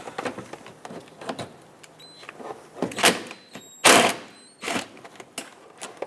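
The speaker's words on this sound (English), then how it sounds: "if you stick an extension with an 8mm socket right up there, you should be able to remove it" Ratcheting and scraping of a socket on an extension working an 8mm screw out of a Mazda 6 bumper cover, a series of irregular clicks and metallic scrapes with a couple of louder bursts.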